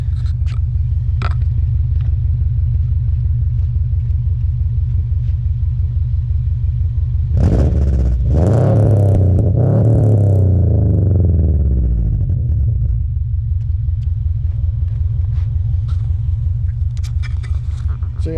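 A Subaru Impreza Outback Sport GF8 with a 2.0 or 2.2 engine and aftermarket exhaust idles in a steady low rumble outside, then revs hard once for several seconds before settling back to idle.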